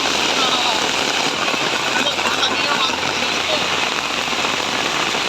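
Heavy rain pours steadily in Karimganj, Assam, a dense continuous hiss close by with some low rumble underneath, loud throughout.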